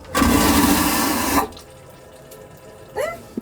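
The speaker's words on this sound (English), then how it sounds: "So let's do the flush test." A cabin toilet on a brand-new Disney cruise ship flushes with a loud, steady rush of water for over a second, then falls to a quieter gurgle, followed by a brief refill swirl and a small clunk.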